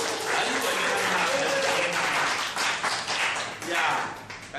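A church congregation claps hands at a New Year worship gathering, a dense burst of close applause that swells and fades in waves with murmured voices underneath.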